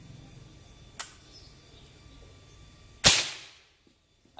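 Two sharp shots from a PCP air rifle, a faint snap and then a louder crack about two seconds later, each ending quickly in a quiet setting.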